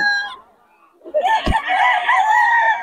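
A ten-month-old banded stag rooster clucks and calls close by in two short bursts, the second longer, with a sharp knock in between.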